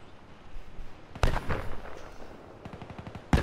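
Gunfire in a Black Ops 3 prop hunt match: a sharp burst, then scattered shots, a rapid string of automatic fire near the end and a final loud crack, over a low rumbling game background.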